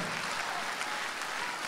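Concert audience applauding after a quiet, piercing song, a steady dense wash of clapping filling the whole stretch at moderate level with no voices.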